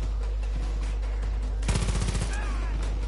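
Close-quarters gunfire in Far Cry 5 comes as a rapid burst of automatic shots over a loud, constant low rumble of game background noise.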